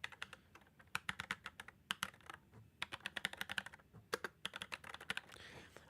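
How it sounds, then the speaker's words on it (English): A computer keyboard fitted with new switches is typed on in quick, uneven bursts of crisp clacky keystrokes, close and clear, with brief pauses between runs. "I got new switches for my keyboard."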